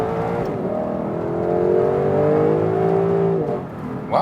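A 2021 Lexus LC 500 coupe accelerates hard in sport mode on a wet road, its engine note climbing steadily in pitch through a gear before briefly dropping, heard from inside the cabin.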